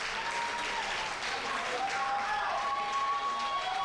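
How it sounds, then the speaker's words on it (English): Crowd cheering and applauding at a lucha libre wrestling match, a steady, dense roar of voices and clapping that holds for several seconds without a break. "crowd cheering."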